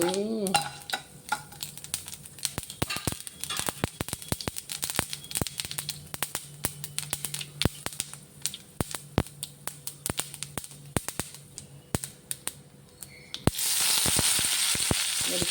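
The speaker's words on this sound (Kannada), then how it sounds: "ಚಟ್ನಿಗೆ ಒಗ್ಗರಣೆ ಹಾಕಿದ ಮೇಲೆ ಚೆನ್ನಾಗಿ ಕುದಿಸ್ತೀನಿ ನಾನು" Curry leaves and spices spatter and crackle in hot oil as a tempering for chutney, dense sizzling with sharp pops throughout, swelling into a loud hiss near the end.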